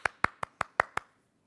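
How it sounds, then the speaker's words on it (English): Six sharp hand claps in quick, even succession from a single nearby clapper in a quiet room, a brief round of applause for a storytime guest. "I would like us all to give a huge round of applause to Dr."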